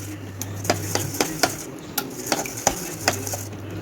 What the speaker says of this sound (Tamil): தயிர் நல்லா மிக்ஸ் ஆகணும்.